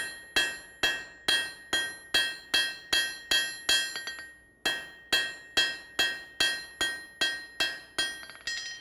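Rounding hammer ringing on metal, a steady run of sharp bright blows at about two per second with a short pause midway, close and clear with no talk.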